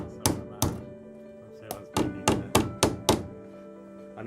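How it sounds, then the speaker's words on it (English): Seven sharp knocks of a hammer on metal ring out, two spaced apart, then five in a quicker run, each a hard percussive strike with a brief metallic ring. "something pointy to knock them through with a hammer"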